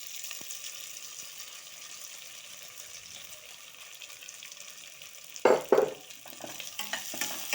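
Rice and raisins sauté for coconut rice with a faint, steady frying hiss, then a few louder scraping stirs of a spoon in the pot near the end.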